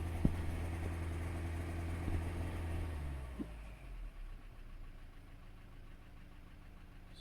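A Ford Transit 2.4 TDCi diesel engine idles with a misfire, a steady low mechanical rumble with an uneven knock. It is close and moderate at first, then drops quieter after about three seconds, with no talk.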